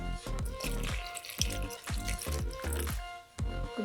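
Liquid pours and splashes into a bowl close by in uneven gurgling bursts, with dripping and sloshing as it fills, no voices.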